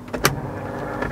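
Motorized pop-up dashboard screen in a BMW X3 built on E46 technology, a short, soft electric whir with a faint click as it moves, heard alone.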